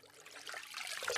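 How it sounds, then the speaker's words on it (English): Water splashing in a bathroom at night, a soft continuous trickling and sloshing that grows slightly louder toward the end, heard alone without any voices. "Splashing."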